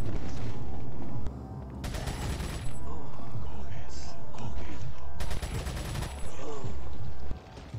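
Gunfire in Resident Evil 4, with two loud bursts of rapid shots and a shorter third burst, separated by quieter game ambience and indistinct background sounds.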